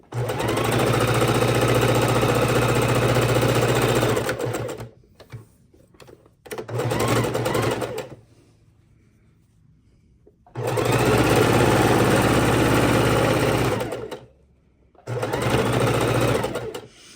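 A sewing machine stitches the seam of a fabric bowl holder in loud, close bursts of steady mechanical whirring, stopping and starting with short quiet gaps between runs.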